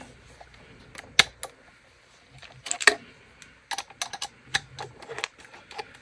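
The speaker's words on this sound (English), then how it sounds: "Alright, and then just screw it in" A screw is driven into a repaired Spirit Halloween Night Terror prop, producing small scattered clicks and ticks of plastic and metal handling, close and quiet with pauses between bursts.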